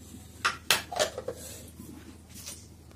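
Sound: ground masala being taken out into a metal pot

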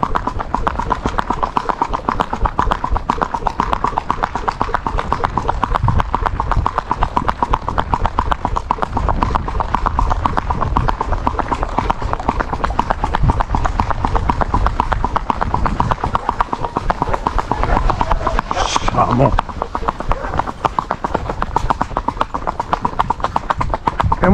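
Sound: Andalusian colt's hooves clip-clopping at a walk

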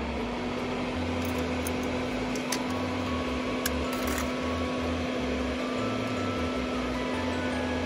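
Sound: soldering fume extractor fan running

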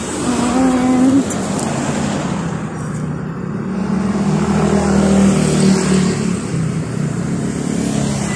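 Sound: cars driving past on a busy road

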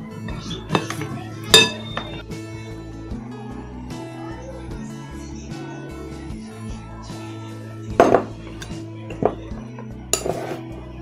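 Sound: stirring crushed cake mixture in bowl

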